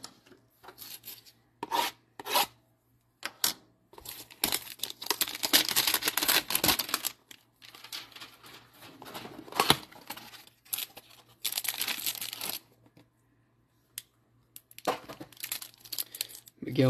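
Topps MLB Update hanger box packaging being torn and opened, with bursts of crinkling, rasping and tearing separated by short quiet gaps, close and moderately loud with no talk.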